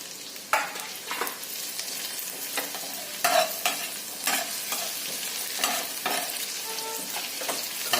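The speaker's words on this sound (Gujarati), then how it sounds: "કાંદાને આતે ફ્રાય કરી દેવાના જ્યાં સુધી કાંદા ફ્રાય ના થાય" Sliced onions fry in a pan for a Surat street-food egg dish, giving a steady hiss and crackle with repeated scraping stirs throughout and no voices.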